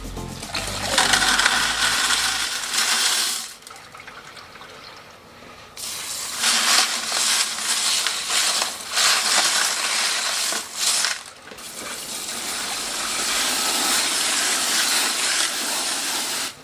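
Tumbled fluorite rocks from southern Illinois are rinsed off, bursts of running water and clattering stones alternating with quieter gaps, close and fairly loud with no talk.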